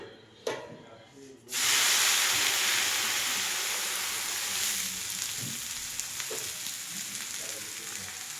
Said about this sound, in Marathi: मी आता टाकते तव्यात दफाटा तेल लावून घ्यायचं तव्याला